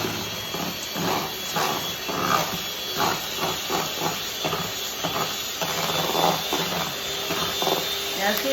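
Electric hand mixer running on high through pumpkin muffin batter, a constant loud whirring hiss with rhythmic bumps as the beaters scrape the bowl, continuous for several seconds.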